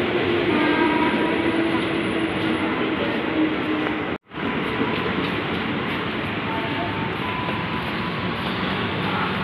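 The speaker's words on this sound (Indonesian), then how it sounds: "Nah, ini ada KRL ini. Dan sekarang itu peronnya udah sejajar ya di stasiun Sudirman." A KRL commuter train runs at the level platform of Sudirman station, a loud, steady rumble with a brief sudden cutoff partway through, heard up close with the platform ambience.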